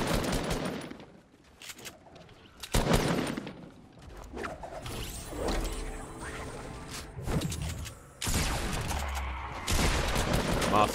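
Gunfire from a double-barrel shotgun in the video game Fortnite, with loud bursts of shots and booms coming in clusters over continuous game noise and movement.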